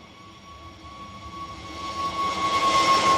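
Jet airliner engines, likely an Airbus A320neo at Bristol Airport, build in a steady rising roar with a sustained whine, growing louder over the final seconds with no talk.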